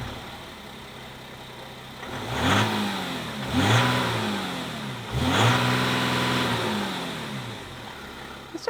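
A VW Amarok V6 engine revving outdoors, close and fairly loud. Three distinct throttle blips rise and fall over a steady idle, each swelling briefly then settling back, with no talk over them.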